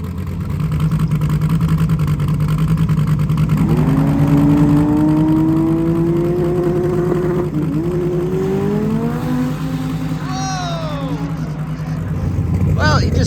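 Drag race car at TX2K accelerating hard off the line into a big wheelie beside a Mustang, a loud engine with rising revs over a steady idle drone, with talk over the top.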